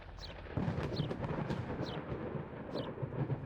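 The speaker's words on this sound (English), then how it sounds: "Storm is outside." Thunder rumbles steadily through a storm outside, low and continuous with rain hiss, while faint high chirps recur every second or so.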